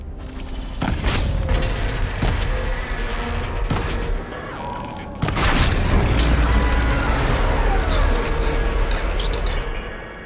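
Gunfire and heavy booming impacts as a coupling on a machine's arm is shot in Horizon Forbidden West, sharp cracks and crashes over a dense, loud roar of game action.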